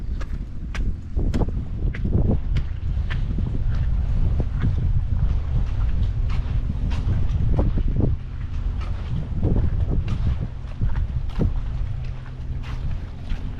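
A small motorboat cruises off Sai Kung, Hong Kong, with a low, steady engine rumble, wind buffeting the microphone and water slapping the hull in scattered sharp knocks.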